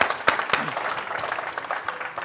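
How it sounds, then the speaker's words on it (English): An audience claps for a guest at a live-streamed studio talk at the Petersen Automotive Museum. The applause is steady and fairly close, with a few sharper individual claps standing out. "big round of applause"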